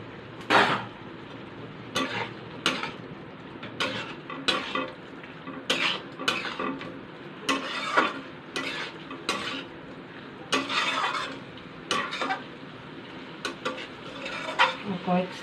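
Fried gule fish stirred into cooked vegetables in a pan, with repeated sharp scrapes and clacks of a spatula against the metal over a soft sizzle, in irregular bursts.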